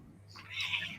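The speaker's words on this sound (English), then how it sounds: "Our little mascot, Max the cat." A single short meow from Max the cat, rising and then fading, fairly close over a quiet low hum, with no talking.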